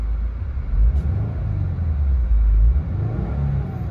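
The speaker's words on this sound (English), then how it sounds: "Give the car a quick rev." A 2016 Subaru WRX engine takes a quick rev, revving up from idle into a loud, deep rumble that swells twice before settling back. The sound is heard close up with no talk.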